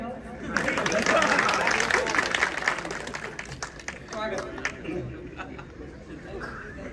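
An audience at an outdoor Hindi poetry recital breaks into applause, swelling quickly then tapering off into scattered claps and murmuring crowd chatter.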